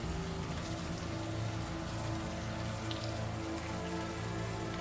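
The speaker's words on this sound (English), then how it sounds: "Now that it's out of the open air, the warm rain is coming down." Steady warm rain falls in the video game Unavowed, a dense, even patter of drops on surfaces that holds at a constant level throughout, with no voices.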